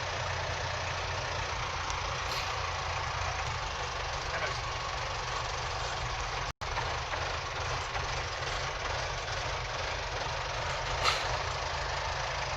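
A Jeep 4x4 running in first gear in standard 4x2, a steady low engine drone with rumble throughout, heard from inside with occasional talk over it.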